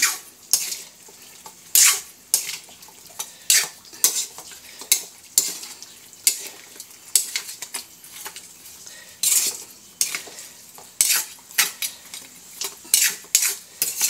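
Food being stirred in a pan with chicken stock, repeated sharp scrapes and clinks of a utensil against the metal at an uneven rhythm over a soft background sizzle, close and loud, without talk.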